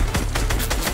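Gunfire in the video game Fortnite: a rapid, loud burst of about half a dozen shots within a second, heard alone.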